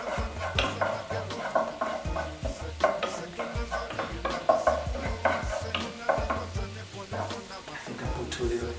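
Food is stirred and mixed in a pan with a utensil, making repeated scraping and clinking strokes in a steady rhythm over a soft sizzle, close and moderately loud.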